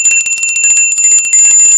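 A bell rings rapidly and insistently, a bright metallic jangle in quick repeated strikes that carries on without pause, loud and close.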